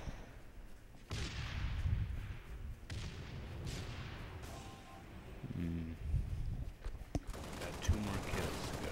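Shotgun blasts in Halo Reach go off as sharp booming bursts scattered across a noisy firefight, some near and loud, others more distant, with a voice talking in between.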